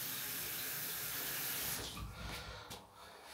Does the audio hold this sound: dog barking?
no